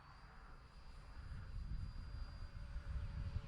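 An E-flite A-10 RC jet plane with gear and landing flaps down, flying as it lines up for a runway landing, a steady faint engine whine and rumble that swells slightly, heard alone at a distance.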